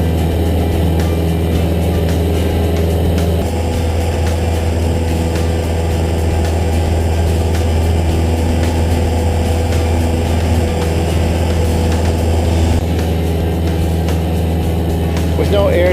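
A Cessna 172 engine during its takeoff climb gives a loud, steady droning roar from start to finish, with no break in power. It sounds close, as if heard from inside the cockpit.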